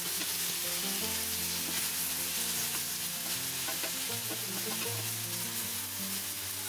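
Chicken breast fries in a pan for a sweet-and-sour dish, giving a loud, continuous sizzle and crackle with faint stirring tones beneath, steady and close throughout.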